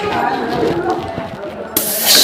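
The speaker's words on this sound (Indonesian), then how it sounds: "kemudian kita semprot menggunakan air gun." Someone talks, then an air gun blows onto a car brake pad in a short, sharp hiss that cuts in near the end and stays loud to the finish.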